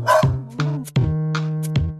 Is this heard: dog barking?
yes